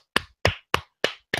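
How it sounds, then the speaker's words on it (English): One person claps five times, close and sharp, each clap crisp and separated by a slow, even pause, with no other sound between them. "Let me clap for these morons."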